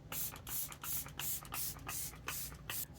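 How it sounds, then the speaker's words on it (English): An e.l.f. Stay All Night Microfine Setting Mist bottle fires a quick series of about nine sharp, hissing spritzes in steady rhythm, close and fairly loud, with no talking. "I'm gonna spray."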